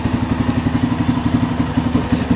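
A 1994 Honda XR650L motorcycle engine runs at a steady idle with a loud, close, regular thumping pulse and some mechanical clatter, joined by a brief high whine near the end.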